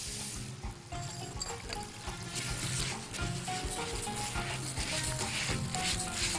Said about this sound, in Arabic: هنزل الرز واديله تشويحه